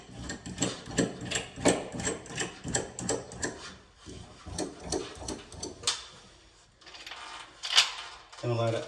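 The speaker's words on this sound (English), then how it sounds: "Putting lock nuts on top." Metal lock nuts and washers being fitted and tightened onto threaded rods for a Mitsubishi ceiling-mounted heat pump, heard as a run of close, crisp clicks and ratcheting taps with a short pause near the middle.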